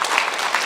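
A short, dense burst of applause from the audience at a town meeting in a hall, many hands clapping at once in a loud, even wash.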